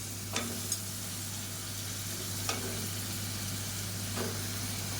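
Chopped tomatoes and diced potato sauté in a pan with a low, steady sizzle, a constant hum beneath it and a few sharp spoon clicks.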